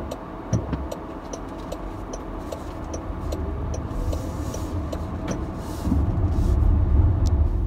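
Inside a Jaguar I-Pace electric car on the road, a steady low rumble of tyres and road noise fills the cabin, swelling slightly near the end, with a faint regular ticking over it.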